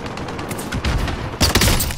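A dense, continuous clatter of gunfire in Call of Duty Warzone runs throughout, swelling into heavier, louder bursts in the second half, with no talk over it.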